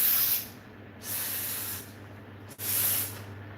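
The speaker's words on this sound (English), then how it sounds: "Lock up yourself in the bathroom and spray the Lysol" Lysol aerosol can sprayed in a bathroom, three hissing bursts of about half a second to a second each, separated by short pauses, close and clear.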